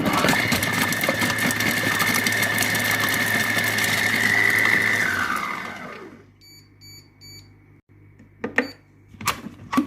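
A Compact Cook Pro food processor runs at speed 5 while making pizza dough with tuna, mozzarella and olives, giving a loud steady motor whir for about six seconds before cutting off, followed by a few light clicks and clatters.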